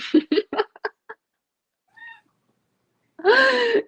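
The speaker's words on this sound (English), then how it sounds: "Cats are awesome." A house cat gives one long, close, clear meow after some brief talk and a faint earlier mew.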